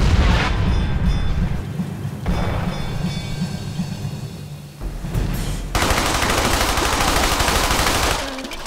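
Gunfire erupts in the World War II shooter Brothers in Arms: Hell's Highway, with dense bursts of rapid shots and booming blasts broken by brief lulls, loud and close.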